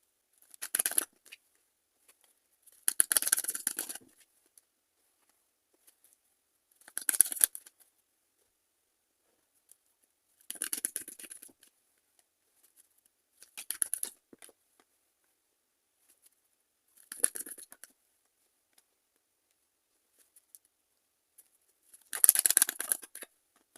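Tarot cards being shuffled and drawn for a Virgo reading: about seven short, crisp papery riffles and flicks spaced a few seconds apart, close and fairly quiet, with near silence between them.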